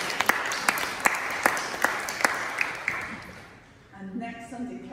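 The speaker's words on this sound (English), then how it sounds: "Now that is a deserved round of applause" A short burst of applause from a church congregation during a Sunday service, scattered claps fading out after a few seconds, followed by a quieter tail with a hint of voices.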